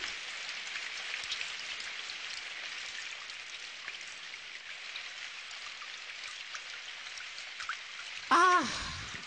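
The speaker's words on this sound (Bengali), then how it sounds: "ছাতার মাথার বৃষ্টি এবার একটু থামো না ভাই।" Steady rain hisses continuously, an even wash of pattering drops, ending with a brief louder sound near the close.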